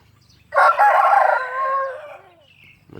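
A single loud, close crow from a young seven-month-old fighting cock, rising sharply and trailing off into a fading tail before a brief soft noise at the end.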